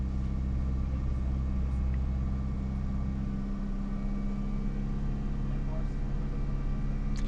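A 2002 Toyota Corolla 1.8L engine with a lean condition and a lazy O2 sensor, held under throttle at steady raised revs, a close continuous low rumble with a slight drop in pitch partway through.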